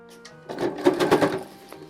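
Sewing machine stitching a small metal ring into a fabric bag with jaguar print, a steady close run of needle strokes lasting about a second, with a short quieter start and tail.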